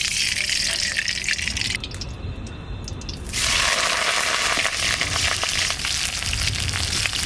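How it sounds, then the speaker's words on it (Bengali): Cauliflower frying in hot oil in a home kitchen, a steady loud sizzle with crackling and spattering that swells after a brief quieter stretch, continuing throughout. "কপিটা একটু ভাজার জন্য তেল দিচ্ছি"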